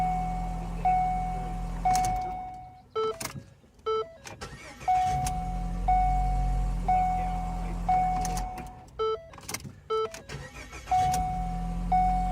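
2013 Ford Escape with a replaced starter cranking and firing up, a short burst of starter whir and engine catch among intermittent clicks and mechanical clunks, with a steady electronic chime tone repeating in the background.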